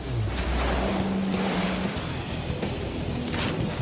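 A Seabreacher watercraft, a shark-shaped three-cylinder diving boat, plunges through sea waves, giving a loud, steady roar of surf and rushing water with wind buffeting throughout and a low engine drone early on.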